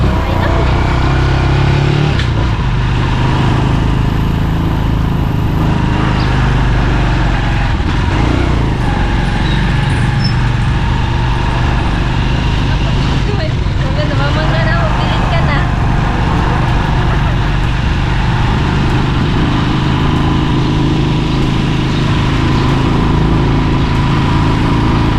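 A motorcycle engine drones loudly and steadily, close by, for the whole stretch, with its pitch shifting slightly. Voices are faintly audible beneath it.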